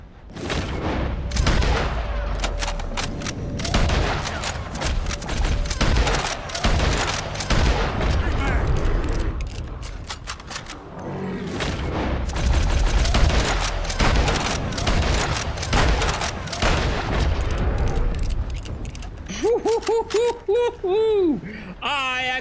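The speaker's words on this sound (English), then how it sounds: "So we start taking shots now." Rapid gunfire in the video game Red Dead Redemption 2, with dense shots and booms over about twenty seconds as a player talks and exclaims throughout, ending in ringing whistling tones.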